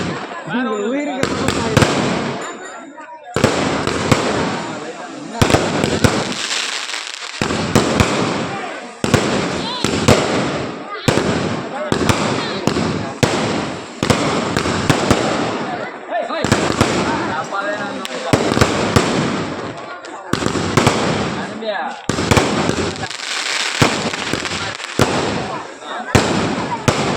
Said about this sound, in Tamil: இவ்வளோ பெரிய வெடியை வாங்கின்னு வந்துட்டான். அது இவ்வளோ நேரம் வெடிக்குது.